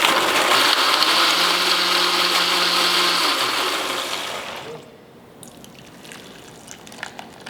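A blender or mixer whirs loudly while combining diced green chilies and brown sugar for a pork street taco sauce, then winds down and gives way to quieter clinks and small handling sounds.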